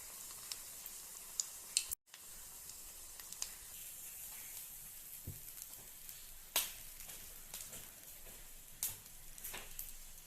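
Urad dal vadas spiced with curry leaves, pepper and green chilli frying in oil, a faint continuous hiss with occasional small pops and clicks, heard alone.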